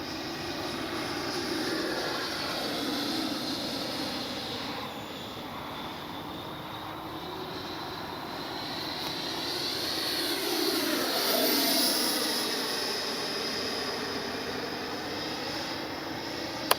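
An FMS Avanti S 90mm electric ducted-fan RC jet flying overhead, its steady whooshing whine swelling and fading as it makes passes at moderate distance, with no talking.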